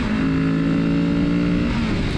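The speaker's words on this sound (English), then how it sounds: "Going up the gears, revving her out." A 2024 Kawasaki Z650RS motorcycle revs hard through the gears on a ride, its steady loud engine drone holding close and continuous before easing at the shift.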